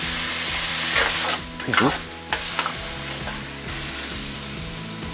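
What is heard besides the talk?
stir-frying vegetables, meat and sauce in a wok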